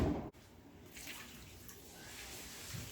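Water poured from a cup into a bowl of coarse sea salt for kimchi brine, a steady close splashing pour that starts after a brief pause and keeps running alone.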